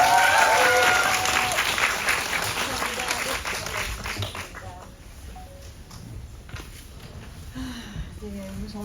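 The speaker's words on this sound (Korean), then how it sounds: "여러분 다시 한번 두 분 인사 나누실 때 큰 박수 부탁드릴게요" An audience at a film anniversary screening and talk applauds warmly, loud dense clapping that gradually thins and fades, with voices speaking over the dwindling claps.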